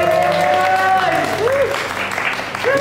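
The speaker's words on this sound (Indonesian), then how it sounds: "Nah, boleh kita tepuk tangan." Audience applause fills a game launch event, a dense wash of clapping that runs the whole time under a speaker's voice over a PA.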